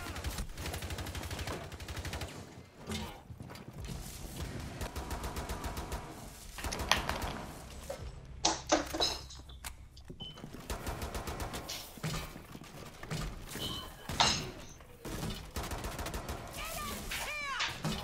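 Rapid gunfire from the tactical shooter game Rainbow Six Siege crackles in dense bursts through most of the stretch, mixed with game effects and voices talking over the action.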